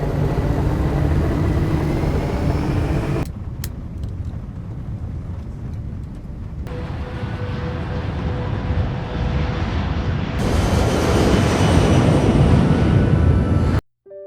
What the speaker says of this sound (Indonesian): Seperti yang diberitahukan Tai In, pesawat tersebut langsung lepas landas untuk melakukan penerbangan.